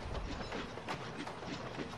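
Train wagons being shunted in an animated railway show, with a steady rolling rumble and faint clickety-clack of wheels over rail joints, moderately quiet and continuous with no talking.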